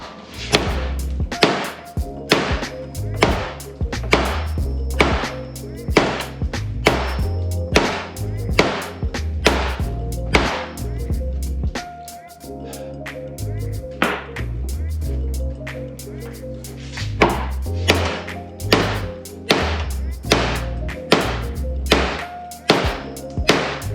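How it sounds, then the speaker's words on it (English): Steady, repeated hammer blows ring out on metal, evenly spaced and loud, with a pause midway before the rhythmic striking resumes, during installation of a 600hp B-series engine. "we're just gonna hit it with a hammer right here on this dot"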